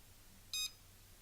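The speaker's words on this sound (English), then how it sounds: "It beeped." A single short electronic beep from a toy drone, clear and high-pitched, sounds once against a quiet background.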